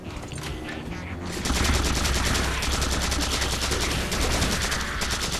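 A newly found weapon in Halo 4 fires a steady, rapid stream of loud automatic shots, sustained almost without pause.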